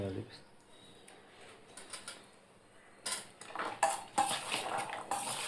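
Spoon scraping and clinking in a bowl while mixing a spicy green peas snack after lemon juice is squeezed in, quiet at first, then louder clattering strokes later in the clip.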